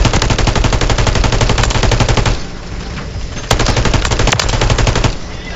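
Rapid automatic gunfire in a Call of Duty match, shooting through a wall: loud continuous bursts of closely spaced shots, a brief pause, then another sustained burst, with no talk.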